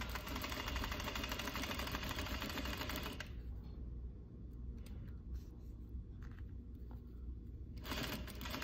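A sewing machine stitches a quarter-inch seam on a fabric face mask, whirring steadily and loudly, then quieting for several seconds before resuming.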